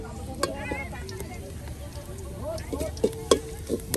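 Bangladeshi pitha frying in hot oil at an outdoor festival, a steady close sizzle with occasional crackles and utensil taps, while a voice talks over it.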